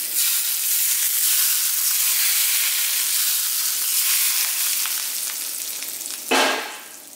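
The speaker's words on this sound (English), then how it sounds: "dried red chili and some cumin seeds in extremely hot oil just for a few" Dried red chilies and cumin seeds sizzle vigorously in extremely hot oil, a loud dense hiss that holds steady before easing slightly, with a brief sharper clatter near the end and no voices.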